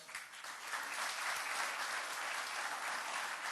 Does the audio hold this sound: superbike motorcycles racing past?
no